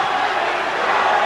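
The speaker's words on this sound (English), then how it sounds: "Listen to the crowd enjoying it here" Spectators at a boxing match roar and cheer in a dense, loud, continuous wash of crowd noise for a little over a second.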